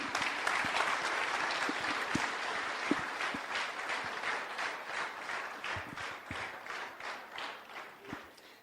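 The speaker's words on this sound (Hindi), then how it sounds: "तो मैं आपके बीच में बुलाना चाहूंगा जोरदार तालियों से अंकिता जी को।" Loud, sustained applause from an audience filling an indoor hall, dense clapping that continues steadily throughout with slight swells and no voices over it.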